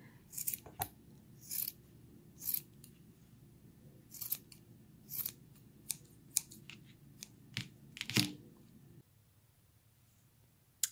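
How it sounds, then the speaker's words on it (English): Scissors trimming a yarn pom-pom, a series of crisp snips in irregular bursts, some quick doubles, close and fairly quiet over a soft hum, with no talking. "now all you do is you trim it down to size"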